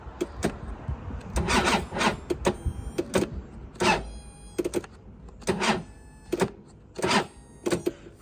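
A scooter's starter motor cranks repeatedly in short bursts as it tries to turn over the engine on a freshly charged battery, each whirring grind separated by pauses; the attempts are close and fairly loud.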